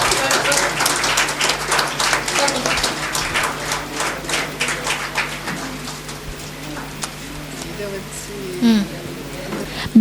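Audience at a college alumni day ceremony applauds award-winning engineering students, strong clapping early that thins and fades out over the second half, with faint chatter and birds behind.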